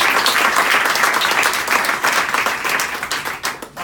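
An audience applauds speaker Paul at a campus conversation event: steady, full clapping from a crowd that holds for several seconds and then starts to fade near the end.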